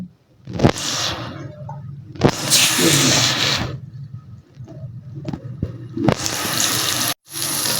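Hilsa fish sizzles in hot mustard oil, loud hissing and crackling bursts surging as the pieces go in and settling into a steady frying sizzle between sharper spits.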